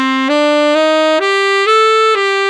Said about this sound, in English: This is sometimes called the altered pentatonic scale,